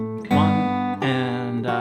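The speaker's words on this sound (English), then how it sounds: "So the second half of bar 6 into bar 7 sounds like this." Fingerstyle acoustic guitar plays a Celtic tune in fifth position, with three bright plucked notes and chords ringing in a steady rhythm, close and clear with no voices.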